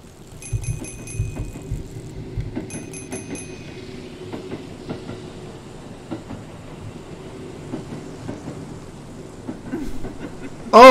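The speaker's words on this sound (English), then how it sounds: "Alright, so a train." Train rolling past inside the PC horror game Burger & Frights, with a steady rumbling clatter and scattered metallic clicks, mid-distance and without talk, ending in a sudden louder burst.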